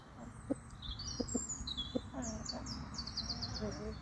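Chickens and a cockerel cluck and chirp in short, scattered calls at a moderate distance, with a few sharper peeps and quiet background murmur.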